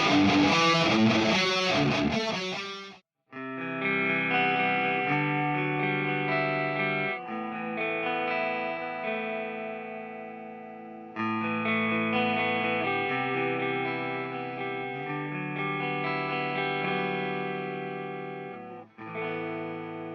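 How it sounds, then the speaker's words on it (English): Distorted electric guitar chords run through a Two Notes Captor X with a faux stereo effect that delays one track by a few milliseconds, giving a wide, thick, chorus-like sound in sustained strummed phrases with short breaks. "But this is kind of a faux stereo effect."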